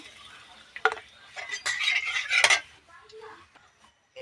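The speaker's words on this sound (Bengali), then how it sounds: "কড়াইতে আবার তেল দিয়ে দিয়েছি এবার একে একে সব কিছু দিয়ে দেবো এই যে এখানে তেজপাতা এলাচ দারচিনি লবঙ্গ নিয়েছি এগুলো দিয়ে দিচ্ছি" Whole spices (bay leaf, cardamom, cinnamon and cloves) dropped into hot oil in a wok and stirred, giving a few bursts of crackling sizzle and utensil scrapes and clinks, close up.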